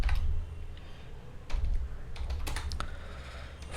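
Fingers type a prompt on a computer keyboard up close, in quick bursts of crisp clicking keys with short pauses between them, and nobody speaks.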